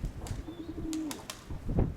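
Pigeons coo in a short, low, soft phrase, with a few sharp clicks and flutter-like bursts around them; no voices are heard.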